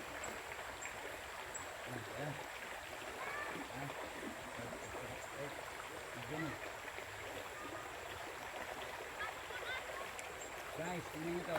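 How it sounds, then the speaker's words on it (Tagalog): Water flows and trickles continuously in a soft, steady wash, with faint voices murmuring in the background. "sa paligid ko guys, naririnig ko lang tubig lang"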